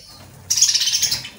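Budgies in a breeding colony give a sudden burst of rapid, high chirping chatter that starts abruptly and continues for about a second, fairly close and without talk.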